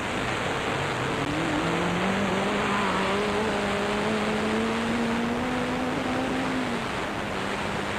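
A rally car on a 1994 mountain trail stage drives past, its engine note rising and falling over steady broadband road and wind noise, heard from a moderate distance.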